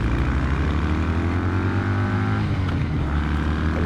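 Kawasaki W800 Cafe motorcycle launching hard in first gear, its parallel-twin engine note loud and steady with rising harmonic tones as revs climb, heard from behind the bike with no talk.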